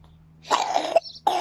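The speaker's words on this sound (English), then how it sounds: "I'm glad you're coughing all that up." A baby coughs in two wet, chesty bursts, the first longer and rattling, the second starting after a short pause, close to the listener with a low steady hum in the background.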